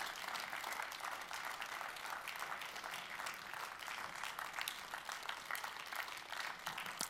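Audience clapping at a media prize award ceremony, sustained steady applause from a crowd, faint and distant throughout with no break.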